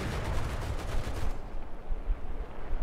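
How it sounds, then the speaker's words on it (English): Bursts of machine gun fire in War Thunder rattle rapidly for over a second, then give way to a lower rumbling tail, faint and without talking. "And now you're firing your machine guns."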